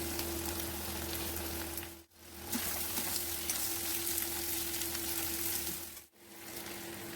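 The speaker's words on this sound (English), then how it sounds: "Add green chilies and diced onion pieces and fry until the onions are softened." Green chilies and diced onions frying in a pan, giving a continuous soft sizzle with a faint steady hum beneath and two brief drop-outs, fairly quiet and close, with no talking.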